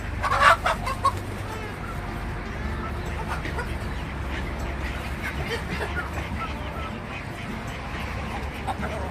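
Chickens and turkeys cluck and call in a farmyard coop in Tekirdağ, with a burst of louder squawking near the start, then a steady murmur of fowl.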